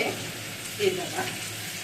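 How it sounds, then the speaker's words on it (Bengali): Potato and cauliflower pieces fry in a pan, a soft steady sizzle broken by a few scraping stirs, close but low in level. "আলু কপিটা একটু ভাজা হয়ে গেছে"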